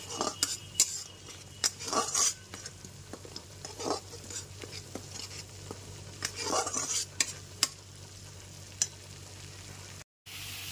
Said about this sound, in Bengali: পেঁয়াজ বাটাটাকে খুব ভালো করে কষিয়ে নিতে হবে